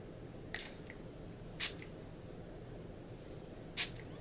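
Three short, soft hissing bursts of makeup fixing spray spaced a second or two apart over a faint steady background.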